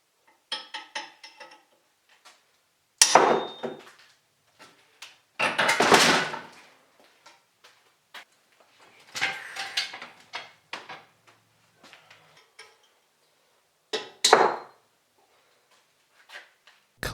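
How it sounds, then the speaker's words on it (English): Hammering and prying an old, rusty pinion seal out of a Dana 35 axle housing: scattered metallic knocks and clanks in irregular bursts, several sharper strikes among lighter taps, with quiet gaps between. "Getting the old rusty crusty pinion seal just requires you to hammer and pry it out."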